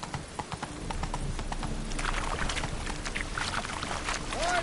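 The horse Roach's hooves clip-clop steadily in The Witcher 3, a clear rhythmic trot over a constant background wash of game ambience.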